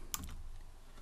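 A brief, quiet burst of a few keystrokes on a computer keyboard while writing Python code, clustered near the start and fading into low room hiss.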